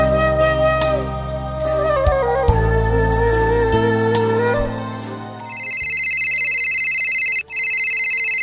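A telephone ringtone plays loudly in a melodic electronic pattern, then changes to a steady, high, repeating electronic ring that continues to the end.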